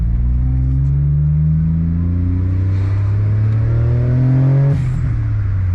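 A turbocharged JDM kei car accelerates at half throttle, its small engine note climbing steadily in pitch through a gear before easing off near the end, loud and close throughout.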